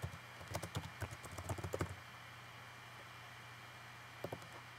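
Rapid, close computer keyboard typing: a quick burst of light clicks for about two seconds, then quiet room hiss and two final keystrokes, with no talking.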